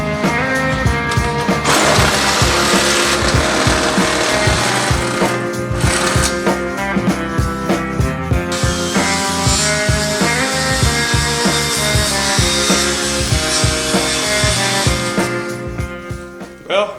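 Power tool cutting through bolts during demolition of a Winnebago RV, a loud continuous grinding with rapid pulsing that runs steadily throughout and tapers off near the end.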